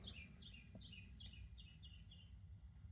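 Birds chirping outdoors near a pop-up tent: a quick series of about six bright, descending tweets in steady rhythm, faint and distant over a low background hum, with no talking.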